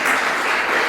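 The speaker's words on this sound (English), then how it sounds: "Yes, you can give her a round of applause." An audience at a community recovery meeting in Ellicott City claps steadily, a short, even wash of applause filling the room.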